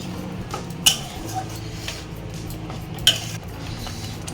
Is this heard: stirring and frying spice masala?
yes